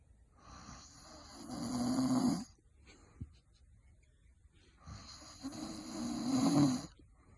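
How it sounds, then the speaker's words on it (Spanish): A man snores loudly and close by, two long rasping inhaled snores separated by quiet breathing, in a slow, regular rhythm. "No para de roncar toda la noche."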